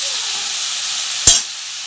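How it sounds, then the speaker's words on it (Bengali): Cauliflower pieces fry with turmeric in a kadai, an even hissing sizzle close by, broken once by a short sharp knock of a spatula against the pan. "দিয়ে আমি এখন কপিটা ভাজবো। যতক্ষণ না একটু ভালো করে ভাজা হচ্ছে ততক্ষণ আমি একটু কড়াইতে নাড়তে থাকবো।"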